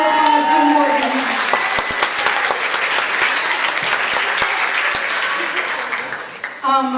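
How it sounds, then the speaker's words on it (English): A crowd at a school concert with a 7th and 8th grade band claps loudly and steadily, with a few sharp louder claps standing out. A voice speaks at the start and again at the very end. "A special round of applause for Morgan."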